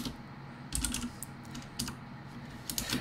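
Quiet computer keyboard typing while entering product tags, a few short bursts of soft key clicks separated by brief pauses, close and faint with no talking.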